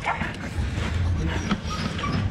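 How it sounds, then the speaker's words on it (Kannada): A Rottweiler from a champion line gives short yips and whimpering barks in quick succession, fairly close and loud, with continuous low background noise throughout. "ಈ ನಾಯಿ ಸಖತ್ ಆಕ್ಟಿವ್ ಇದೆ"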